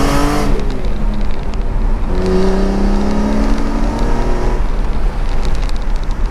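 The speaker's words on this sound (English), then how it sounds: "So this car and the E90 really are happy when they're revving out." A BMW E46 M3 with the S54 inline-six revs steadily and loudly, its engine note rising and falling through the rev range without any talk over it.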